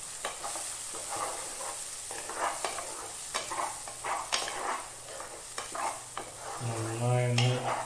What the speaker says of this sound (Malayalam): നന്നായി ഇളക്കിയിടുക.